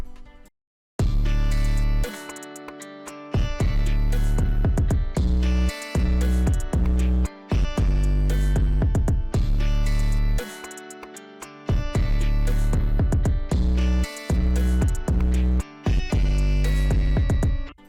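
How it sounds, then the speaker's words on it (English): A loud, dense hyperpop electronic drum beat loops with heavy booming bass, crisp hits and brief drop-outs where the pattern stops and restarts. "Okay, so the whole beat together should sound like this."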